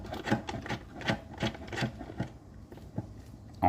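M8 threaded stud, 15 mm on each side, being screwed into a threaded hole on a Ryobi RM300e riding mower: a rhythmic series of short metallic rasping scrapes, close and moderately loud, slowing toward the end.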